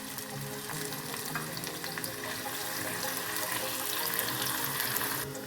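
Chopped small onion frying in a pan with cumin seeds for a matar methi malai curry, giving a steady, close crackling sizzle that continues unbroken, with no voices.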